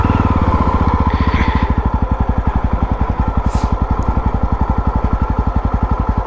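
A Yezdi Roadster motorcycle engine runs close by with a steady, even thumping beat that holds for about six seconds, with no voices over it.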